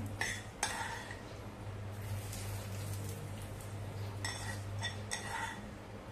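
A spoon scrapes and clinks against a metal pan while stirring hot tempering, several times at an uneven pace, close by, over a low steady hum.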